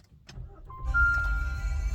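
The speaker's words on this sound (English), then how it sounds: "I passed and I can start my car." A car engine cranks and catches after a breathalyzer ignition interlock shows zero alcohol, settling into a steady close idle with a faint electronic tone over it.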